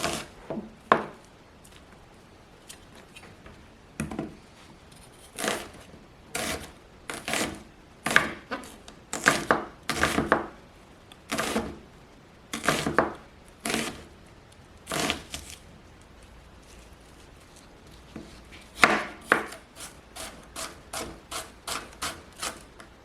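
A knife dices vegetables on a cutting board for spaghetti bolognese, with irregular bursts of quick chopping taps and short pauses between them, close and moderately loud, with no talk.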